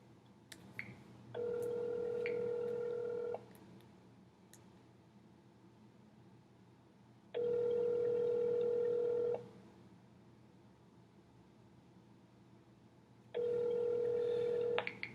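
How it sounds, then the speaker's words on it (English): A phone line rings three times with long gaps between, a steady electronic tone repeating while waiting for someone to pick up. "Let's see if he answers the phone."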